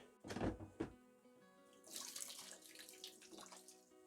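Water draining and splashing out of a Bosch tumble dryer, a faint gurgling trickle with a couple of soft knocks near the start.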